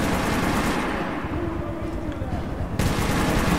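Rapid automatic gunfire rattles through a shootout in Metro 2033 Redux, loud and dense, easing slightly in the middle before bursting back to full intensity.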